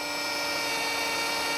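A power drill bores mounting holes into a boat's fiberglass, giving a steady, bright, hissing whine that runs unbroken and fairly close throughout.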